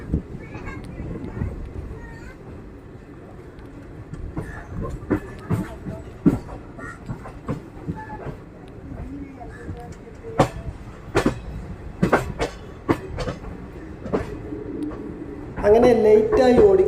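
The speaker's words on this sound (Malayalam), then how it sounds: "ബംഗളൂരിൽ നിന്നും മൈസൂരിലോട്ട് പോകുന്ന ഉത്കൃഷ്ട് ലിവറിയിലുള്ള ഒരു മെമു ട്രെയിനാണ് ഇപ്പോൾ കടന്നു പോയത്" A MEMU train in Utkrisht livery, running from Bengaluru to Mysuru, rolls past with a continuous rumble and repeated sharp rail clacks, while pigeons coo and people talk nearby.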